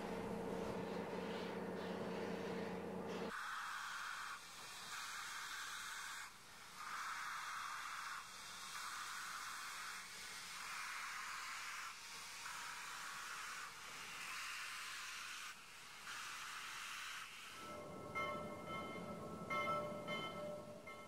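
New Orleans & Gulf Coast Railway steam locomotive No. 1744 pulling away on a southbound run past a shopping-center parking lot, a broad rushing exhaust and hiss rolling steadily for about twenty seconds, heard from a distance with no voices.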